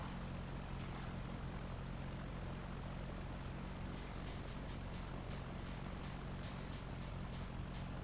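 Steady droning aircraft engine in X-Plane 11 flight simulator, with a low propeller-like hum, constant and unbroken throughout, fairly faint.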